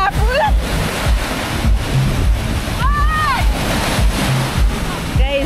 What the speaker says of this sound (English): the waves are so many today